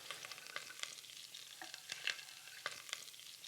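Garlic sizzling in hot olive oil in a pan, a soft steady crackle with scattered sharp pops and spits, close and fairly quiet, with no talking.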